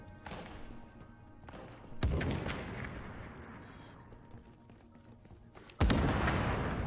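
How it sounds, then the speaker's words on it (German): Two heavy booms go off a few seconds apart in the video game The Division, sharp blasts that roll into rumbling decay, over a constant background of game noise. "Schöne Explosion."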